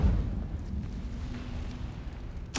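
A fire spell cast in the video game Hogwarts Legacy: a sustained roaring, rumbling burst that holds steady for over two seconds, then ends in a sharp crackling flare.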